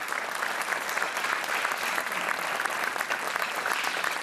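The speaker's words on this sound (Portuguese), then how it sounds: "vamos aplaudir o nosso Diogo Guedes, Super Joker de serviço" Steady studio audience applause on a Portuguese TV quiz show, dense and even clapping throughout with no gaps, moderately loud and unaccompanied by talk.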